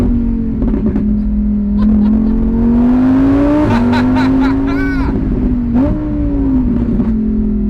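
Lamborghini Huracan Evo Spyder V10 engine revving loud and close, pitch climbing steadily with two brief gear-change dips, crackling pops layered over a sustained roar.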